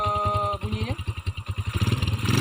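A Honda Supra X motorcycle engine with a modified clutch idles close by, then is blipped sharply into rapid, pulsing revs that climb again toward the end; someone speaks briefly.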